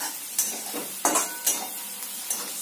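Onion and poha sizzle and fry in a pan, with a spoon or spatula scraping and stirring in several distinct strokes, close and fairly quiet, no voices.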